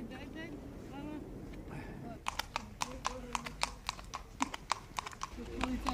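Hooves of a white horse clip-clopping in a steady, loud, closely spaced series of sharp knocks, starting after a couple of seconds, with people talking underneath.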